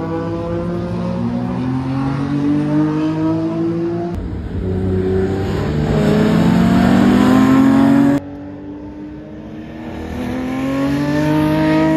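A Porsche 911 Turbo Look at the Spa Classic, its engine note rising and holding in long, loud revving sweeps close by, with a few seconds of higher-pitched acceleration; no talk.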